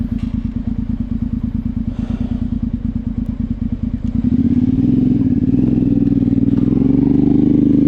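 Motorbike being ridden, its engine running steadily with a fast pulsing putter for about four seconds, then rising into a louder, smoother sustained drone as it speeds up; close and continuous, no talking.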